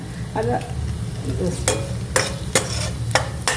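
Onion with a long green chilli sautéing in a pan for ghee rice, a steady low sizzle broken by several sharp scraping stir strokes spaced through the stretch, close and fairly loud, no talking.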